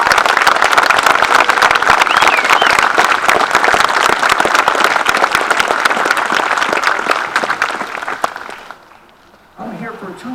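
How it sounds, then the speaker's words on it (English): A Veterans Day service crowd applauds loudly and steadily for several seconds, dense clapping filling the room before it fades out and a voice begins. "would you give yourselves a round of applause that can be heard in Afghanistan right now"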